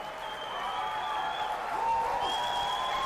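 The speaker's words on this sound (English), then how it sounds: "Listen to that applause." Audience applause and cheering from a crowd at Nintendo's E3 2005 press conference, a steady sustained wash of clapping that holds at an even level throughout.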